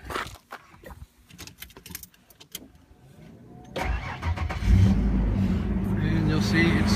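A 1992 Ford engine cranks with clicks and clatter and then catches. It settles into a loud, steady idle close by, with brief talk before the start.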